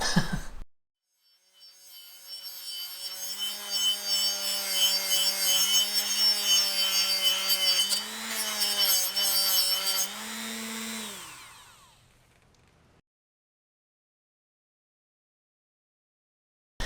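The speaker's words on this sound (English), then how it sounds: "get these brackets off and grind them down with the Dremel" Dremel rotary tool grinding down metal brackets during car reassembly work: a steady, loud high-pitched whine held for several seconds that shifts in pitch as the bit bears on the metal, then winds down into silence.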